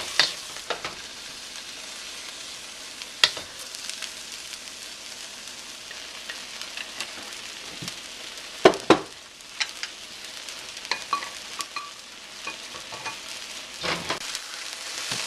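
Ribeye steak meat frying in a pan, a steady low sizzle with occasional sharp clicks and scrapes of stirring, close and fairly quiet, without talk.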